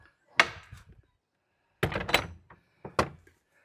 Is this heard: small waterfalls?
no